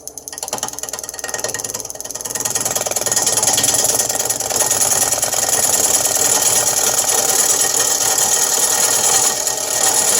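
A wood lathe spins at about 523 RPM while a natural edge bowl is turned, giving a loud continuous rattling, grinding whir as the cutting tool bites the wood, building up over the first seconds and then holding steady.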